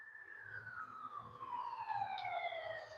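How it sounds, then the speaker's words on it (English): A distant police siren wails in a long falling sweep, faint over low rumbling traffic noise, with no talking. "definitely hear more sirens."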